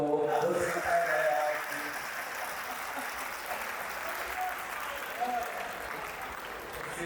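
An audience at a Hindi poetry recital claps in a broad, steady wash of applause. It sounds moderately distant and continues evenly for several seconds, with a voice faintly over it near the start.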